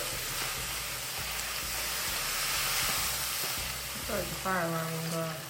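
Beef fried rice fries in a hot pan with a loud, constant close sizzle under repeated stirring scrapes, and near the end a voice briefly speaks over it.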